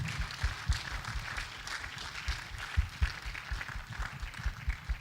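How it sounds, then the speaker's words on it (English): A standing audience at a public book presentation applauds, a fairly faint, continuous spatter of many hands with occasional louder claps close by, heard from a distance in a hall. "Please stand up and let's applaud him one more time."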